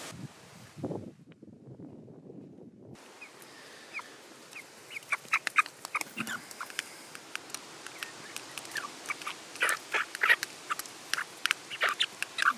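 Chickens and hens in a shed in Sweden are being fed egg, clucking and squawking in quick, irregular bursts close by over a quiet background.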